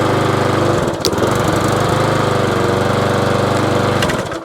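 A small engine fitted with a cheap Amazon carburetor runs loud and close, a steady buzzing drone with slight rev wobbles and a couple of brief knocks, no talk.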